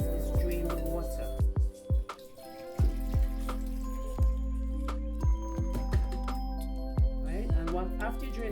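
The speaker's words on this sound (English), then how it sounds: "what I'm going to do next is drain the water" Water draining from almonds soaked overnight, with irregular drips and small splashes falling into a sink or bowl over a low running hum, close and fairly quiet.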